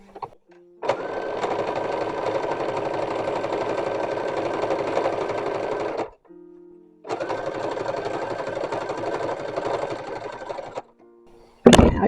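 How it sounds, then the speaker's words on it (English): A domestic sewing machine stitching down the edge of a 19th-century-style baby corset, running steadily for about five seconds, pausing briefly, then running again, close and loud with no talking. "So I'm just going to stitch down the edge here."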